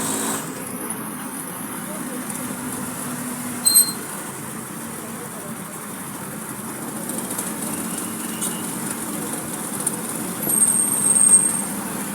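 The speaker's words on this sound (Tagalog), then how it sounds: "nakasakay po ako sa isang tropa sa tricycle." Road noise from inside a motorized tricycle riding through traffic, a steady engine and tire drone with passing vehicles swelling by, while someone talks over it.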